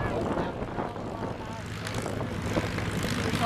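Propeller engine of a North American P-51D Mustang at an airshow at Groningen Airport Oostwold, a steady droning roar held throughout at moderate distance, with a crowd murmuring faintly beneath it.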